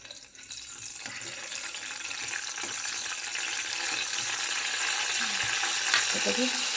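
Curry leaves sizzling in hot oil, a continuous bright hissing crackle that grows slightly louder over the clip, with small pops and faint kitchen clatter.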